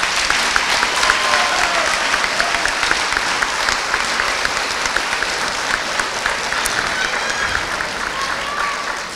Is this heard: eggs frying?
no